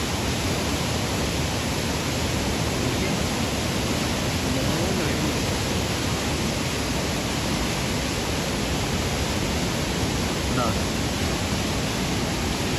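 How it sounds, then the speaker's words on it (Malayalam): Steady broadband roar of Chappanthottam waterfall on the Kuttiadi ghat road, a continuous loud rush of falling water filling the whole scene with no break. "വെള്ളച്ചാട്ടം കണ്ടോ? എന്താ വെള്ളച്ചാട്ടം,"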